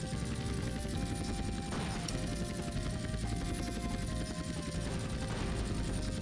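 Gunfire from a helicopter in GTA: San Andreas, a continuous rotor drone mixed with rapid rattling shots, loud and steady throughout.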